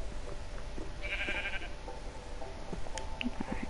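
Sheep bleating in Minecraft, a video game: a short bleat near the start and small blips later, heard alone over a steady background hum.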